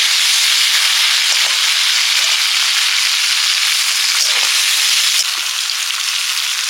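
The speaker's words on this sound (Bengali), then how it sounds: "আলু দিয়ে লঙ্কা ফোড়নে দিলাম।" Potatoes fry in hot oil with a chili tempering for a Bengali dish, a loud, steady, close sizzle and hiss that continues unbroken, with a few faint stirring scrapes.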